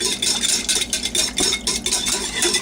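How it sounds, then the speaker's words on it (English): Rapid whisk strokes rattle against a bowl while a tequila, lime and cumin shrimp marinade is blended, a dense continuous metallic clatter, close and fairly loud throughout. "Whisk until it's well blended."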